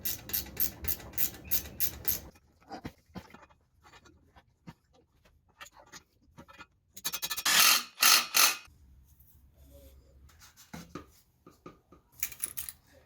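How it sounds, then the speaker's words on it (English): Metal parts for a motorized bicycle being chamfered with a hand tool, giving a quick run of sharp scraping clicks, then scattered light taps and a louder burst of rasping strokes, all close by with no talk. "Okay, I'm gonna need to chamfer these."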